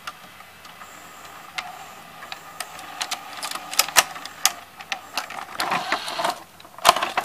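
A Hitachi VT-M260A VCR runs through its tape eject, a string of sharp mechanical clicks and whirring clatter that grows busier toward the end, close and fairly quiet.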